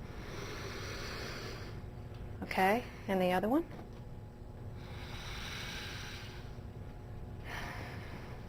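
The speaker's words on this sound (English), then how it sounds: "take one finger and hold your nose one side and then take a deep sniff in" Deep sniffs drawn in through one nostril at a time during a nose airflow check in a health assessment, two short, loud breathy inhalations in quick succession, followed by brief talk.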